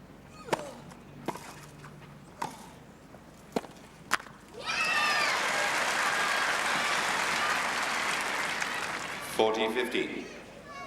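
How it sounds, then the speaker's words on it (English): Crowd at the 1987 Australian Open tennis final in Melbourne breaks into a sustained, dense roar of applause and cheering after a few sharp isolated racket hits, the ovation fading slightly before a commentator's voice returns. "The crowd pretty much cheering every point Cash wins now."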